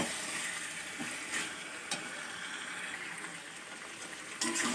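Potato chicken curry sautéing in a pan, giving a continuous close sizzle and bubbling with a few spatula scrapes and knocks, no voices.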